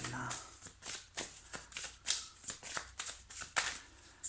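Tarot cards riffled and shuffled by hand in a quick run of soft, crisp bursts, close and fairly quiet, with no talk over them.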